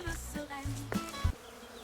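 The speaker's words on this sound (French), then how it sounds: "On entend les frelons, les guêpes, je sais pas, on voit rien" Hornets and wasps buzz close by in short overlapping drones, humming at varying pitch against a quiet outdoor background on a muddy path by a pond near Larressingle, France, in April.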